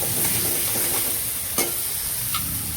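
Tomato and onion masala with ground thecha sizzles in oil in a pan, a dense, close, continuous crackle broken by stirring scrapes and a couple of sharper ticks.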